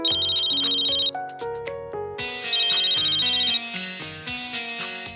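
A mobile phone ringtone in a Hindi TV drama scene plays loud and near, a bright repeating electronic melody looping several times without any talking over it.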